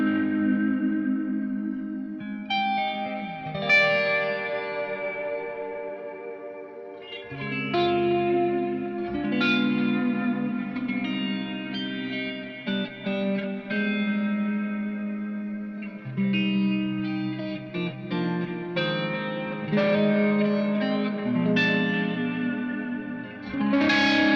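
An electric guitar runs through a Deluxe Electric Mistress flanger pedal, playing chords and single notes with a slow sweeping, metallic, chorus-like swirl and reverberant tails, clear and alone with no talk.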